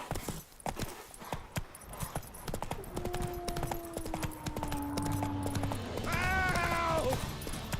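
Roach the horse gallops in The Witcher 3, hooves clip-clopping in a quick steady rhythm under game music, with brief voiced sounds late in the run.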